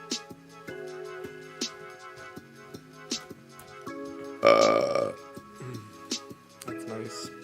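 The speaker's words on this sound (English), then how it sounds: "Burping is nice, right?" A loud, drawn-out burp rises midway through a stretch of rhythmic music with ticking beats, close and prominent for about half a second.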